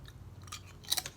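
Close crunching bites into Taiwanese GGE wheat crackers, a light crisp snack, with soft chewing that peaks in two sharp crunches near the end, no talking.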